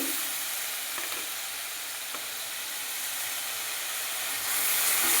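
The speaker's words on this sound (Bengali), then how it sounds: "মশলাটা ভালো করে কষিয়ে নিচ্ছি" Ground spice paste with coriander leaves and chopped tomato sizzling as it fries in a pan, a steady loud hiss with faint stirring clicks, swelling slightly louder near the end, no speech.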